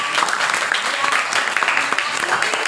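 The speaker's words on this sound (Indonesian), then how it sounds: "Tepuk tangan untuk teman kita." Students in a classroom applaud a classmate, a dense, steady burst of clapping that fills the whole stretch, with children's voices mixed in underneath.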